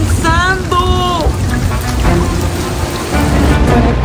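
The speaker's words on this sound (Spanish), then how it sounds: "Y está lloviendo cada vez más fuerte, miren. ¿Escucharon? Hasta granizo, creo que es eso." Heavy rain with hail pounding down during a storm at a house, a dense steady roar of falling water and ice, heard close with a voice speaking over it at times.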